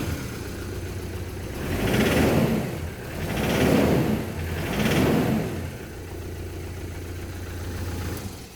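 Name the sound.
car engine starting and running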